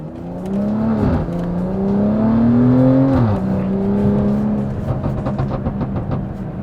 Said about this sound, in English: I'm gonna rip it a little bit more here.